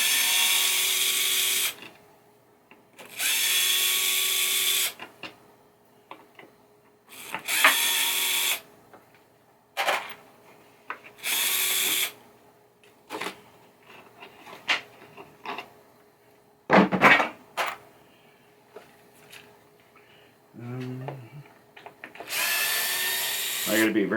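A power tool whirs in repeated short bursts as it unscrews the playfield screws of a 1980 Williams Firepower pinball machine. Each burst is loud and close, with quiet gaps, small clicks and handling noises between them.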